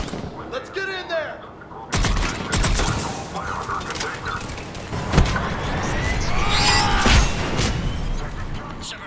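Gunfire at a checkpoint in Mass Effect 3, with sharp shots and explosive bangs over continuous combat noise and mechanical whirring, and brief radio-style voices near the start.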